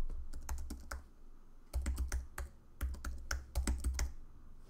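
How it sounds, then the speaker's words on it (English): Keys clack in quick bursts on a computer keyboard as a username is typed, a close and fairly quiet run of taps with short pauses between groups. "Enter your username"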